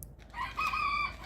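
A rooster crows nearby, a single loud, drawn-out call rising and holding, with no talking.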